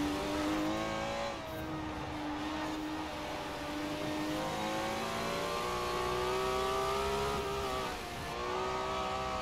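Ferrari 512 S engine in Forza Horizon 4, a steady loud high-revving drone with rising and falling pitch as the car accelerates and shifts, continuous and alone throughout.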